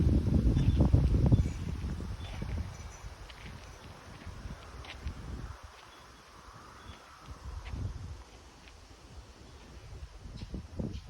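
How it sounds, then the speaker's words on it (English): Strong gusts move through oak and pine trees outdoors, a steady broadband whoosh that swells loudest in the first couple of seconds, then eases and rises again in softer surges. "oaks to move like that, it's some wind"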